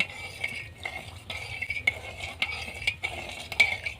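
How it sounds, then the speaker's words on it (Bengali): A spoon stirs sugar and salt into water in a bowl, making repeated light clinks and scrapes against the sides in an uneven rhythm, close and fairly quiet. "এখন চিনি ও লবণটা এর সাথে নেড়ে চেড়ে মিশিয়ে নেব।"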